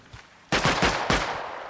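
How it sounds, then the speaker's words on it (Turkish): Gunfire in a video game: a loud burst of rapid shots rings out in a quick cluster after a quiet moment, with no voices. "silah seslerini duydu"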